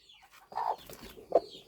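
A hen gives a few soft, short clucks close by, with quiet background noise between them.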